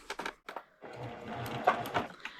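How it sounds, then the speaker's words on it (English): A sewing machine stitches an applique, starting with a few short taps and then settling into a steady close whir with light mechanical clatter, no talking. "So here I am at the sewing machine"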